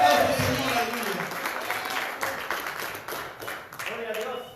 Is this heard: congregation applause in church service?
yes